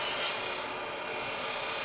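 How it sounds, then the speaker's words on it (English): A three-point woodturning tool shear-scrapes a spinning piece of wood on a lathe to form a tenon, a continuous close hissing scrape with a steady rasp and no pauses. "the cutting edge is on an angle, so it's shear scraping"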